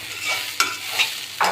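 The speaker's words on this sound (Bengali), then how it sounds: "পেঁয়াজের সাথে গ্রেট করা আলুটা কিছুক্ষণ নেড়ে চেড়ে নিয়েছি" Grated potato with onion and green chillies sizzles in a pan while being stirred, with a few sharp spatula scrapes cutting through the close, moderate frying hiss; no one speaks.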